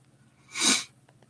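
A single sneeze, one sharp burst standing out clearly against near silence and fading quickly.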